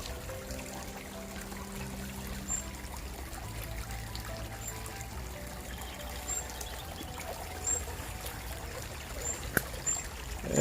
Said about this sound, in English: This is the only part that you can hear the water running.